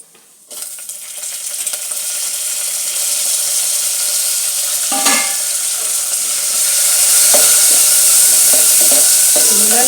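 Tempering spices sizzle and crackle in hot oil as green chillies and curry leaves go into the pan for a sweet pumpkin curry, with a sharp hiss that swells and stays loud, broken by a few stirring clinks.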